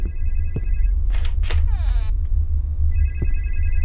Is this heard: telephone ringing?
yes